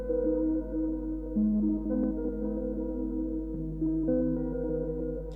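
Dark, muffled sample built in FL Studio with lows and highs trimmed by EQ, sustained tones shifting between chords in a smooth continuous pad, alone with no voices.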